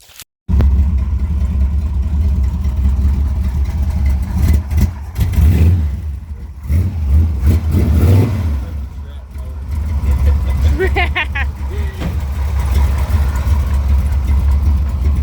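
A Ford C50 truck's engine runs steadily with deep low rumble and occasional revving, loud throughout, with people talking over it.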